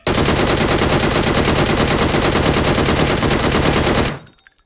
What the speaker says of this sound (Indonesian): DP menembakkan peluru sekitar 37 tembakan dalam waktu 4 detik